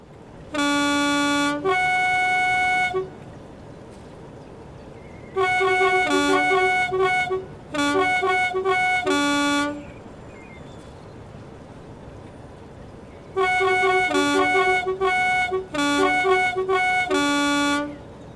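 A GT3 gas-turbine locomotive in Train Simulator, fitted with the Armstrong Powerhouse sound pack, sounds its two-tone horn in repeated loud blasts, some long and some short, with quiet gaps of engine hum between them.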